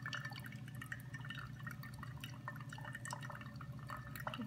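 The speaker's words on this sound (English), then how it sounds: "by the time it finishes dripping" Pour-over coffee drips faintly and irregularly through its filter into the vessel below, a quiet scatter of small droplets over a low background.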